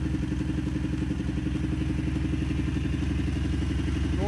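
A Varetti VR 150cc single-cylinder engine idles steadily right after its first start, a close, even, rapid putter with light mechanical clatter, unbroken and free of speech.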